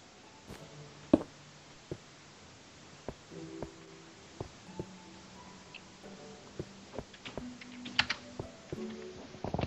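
Keys clatter on a computer keyboard in uneven bursts of clicks and taps, close and fairly quiet, with no voices over the typing.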